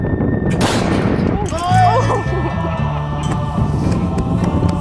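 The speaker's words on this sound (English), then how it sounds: "now I'm going to take some free kicks from around 30 meters away" A powerful free kick struck with a specially built soccer shoe from about 30 meters out: one sharp, loud impact near the start, followed by a brief sustained ringing tone and outdoor background noise.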